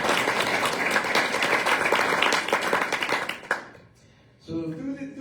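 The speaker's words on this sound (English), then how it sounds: "If y'all could give her a round of applause." An audience at a jazz event claps for Claire Rapp, with dense, lively applause that fades after about three seconds before a voice starts talking.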